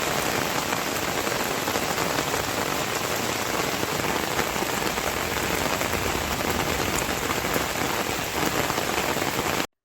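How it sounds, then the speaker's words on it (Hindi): Heavy monsoon rain with strong winds pours down in a steady, dense, loud roar on surfaces for the whole stretch, with no voices and no letup until it cuts off at the end. "तेज हवाओं के साथ धुआंधार बारिश बरसती हुई देखी गई"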